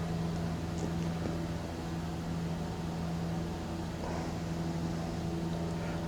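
Small bush plane engine at full power while climbing, a steady droning hum with a constant low tone, moderately loud and unbroken throughout, with no talking.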